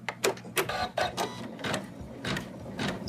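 An in-the-hoop embroidery machine stitches fur fabric onto a Santa doll, giving a rapid mechanical chatter broken by several sharp clacks, steady and close throughout.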